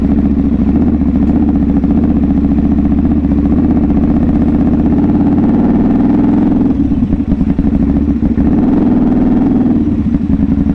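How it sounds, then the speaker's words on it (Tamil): A sport motorcycle engine drones loudly and steadily throughout, with rough low rumble and some clattering variation as the bike rides off-road over uneven ground. "சூப்பர் பைக்கில் ஆஃப் ரோட்லாம் பண்ணிகிட்ருக்கோம்."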